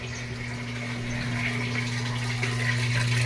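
Water pours steadily into a top-loading washing machine at a house in Imus, Cavite, a constant rushing flow with a low pump-like hum beneath it, growing slightly louder toward the end.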